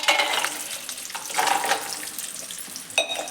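Cashews frying in ghee for biryani give a steady, close hiss with soft bubbling that swells and fades, and a brief clink near the end.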